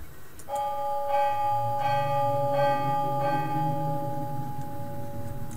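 Bell rung by tugging a rope in the adventure game Ben Jordan Case 4: four evenly spaced, ringing bell strikes with long overlapping tonal decay, clear and fairly loud over a low room hum.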